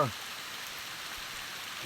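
Rain falling steadily outdoors in a fresh downpour, a constant hiss of drops on surfaces at moderate volume with no pauses.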